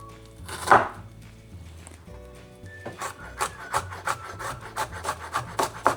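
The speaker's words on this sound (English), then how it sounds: "Yeah, and then just slice it small," Garlic being sliced finely with a knife on a wooden board, a quick run of rhythmic, close chopping taps that speeds up in the second half after a few scraping sounds, with no speech.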